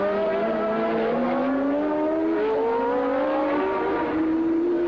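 Formula 1 race cars on the 1983 Detroit Grand Prix street circuit drone past, engines whining and shifting pitch steadily as they rise through the revs, a continuous loud mechanical scream with no talk.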